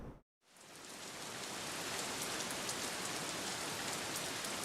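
A built-in rain sample from the Mixcraft DAW plays as a steady, dense hiss of rainfall with fine droplet detail. It starts after a brief gap and holds evenly loud with no talk.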